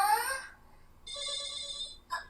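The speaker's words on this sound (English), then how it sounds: "Oh, we got a phone call." A telephone rings in short electronic trilling bursts separated by gaps, fairly close and clear, with a brief voice-like sound at the end.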